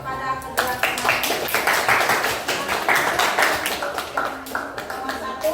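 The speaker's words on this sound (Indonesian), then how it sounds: "kita berikan aplaus kepada kedua teman" Classroom applause for two classmates after they present a physics problem, a dense run of many hands clapping at close range, steady for several seconds with some voices mixed in.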